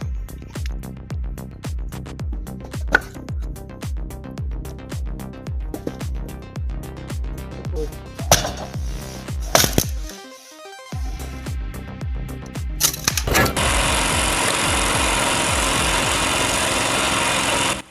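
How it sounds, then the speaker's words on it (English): Homemade piston-driven firewood splitter working through knotty hardwood rounds: a steady, close engine drone with rhythmic mechanical thumps, a brief drop-out, then a loud harsh roar near the end. "The mechanism drives down with piston-like force, crushing through difficult rounds and knotty hardwood without overcomplication"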